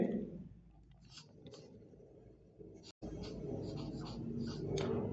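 Marker or chalk writing on a board during a chemistry lecture, scratchy intermittent strokes in short bursts with a brief pause midway, fairly faint, with no talk over it.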